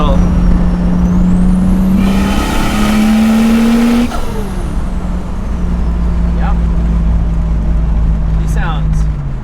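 The engine of a Toyota Supra project car runs loudly nearby, revving up and then settling back to a steady drone, with wind noise and people talking over it.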